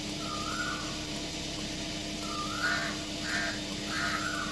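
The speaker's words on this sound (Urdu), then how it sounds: "اب آئی تھنک کہ کوئل ہی کی آواز ہے" An Asian koel calls repeatedly in the morning, several rising whistled notes at moderate distance over a steady background hum of wind and outdoor ambience.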